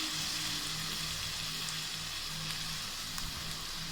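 Onions sizzle steadily in hot oil in a pan while being sautéed for chicken kuzhambu, a soft continuous crackle with faint stirring and no talking.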